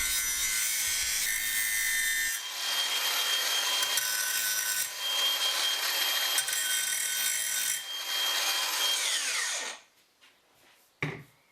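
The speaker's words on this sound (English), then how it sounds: "So hence a little bit of work here with Angie the angle grinder" An angle grinder flattens the steel jaws of a Toolstation 150mm Minotaur bench vice, giving a loud, continuous abrasive whine for nearly ten seconds before it stops abruptly, followed by quiet and a brief knock.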